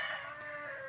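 Hens in a laying coop, including a brooding hen on her nest, give a sustained, faint, tonal clucking call lasting under a second.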